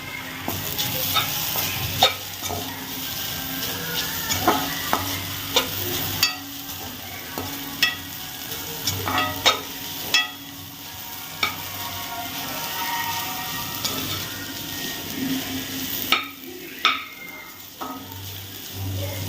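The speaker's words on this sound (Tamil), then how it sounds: "இப்போ இதை நல்லா மிக்ஸ் பண்ணிக்கோங்க." Beetroot rice with grated coconut being stirred in a pan, a steady sizzle and scrape of a spoon running throughout, with repeated sharp clinks of utensil against the pan at irregular intervals.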